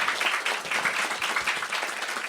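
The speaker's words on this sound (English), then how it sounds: "let's please give a round of applause to Cheryl" An indoor audience claps together in a dense, steady round of applause, moderately loud and continuous, with no voices standing out.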